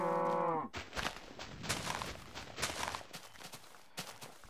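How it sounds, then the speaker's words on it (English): A cow moos once, a short, low, tonal call at the very start of a Minecraft session, followed by several seconds of shuffling, thudding movement and footsteps. "Come on, cows. Let's go home."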